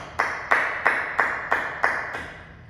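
One person clapping alone in a quiet, empty graduation room: six sharp, evenly spaced claps with a slight ringing decay after each, close and clear with no other sound.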